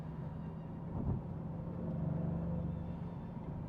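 A Maserati GranTurismo Trofeo cruises along, its engine a low, steady rumble from inside the cabin with a slight swell partway through, no talking.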